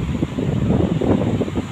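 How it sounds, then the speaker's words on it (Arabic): Strong wind gusts across a beach in Matrouh, buffeting the microphone with a loud, rough, fluctuating roar and no voices. "يا ريت يكون الصوت واضح عشان في هوا النهارده قوي جامد"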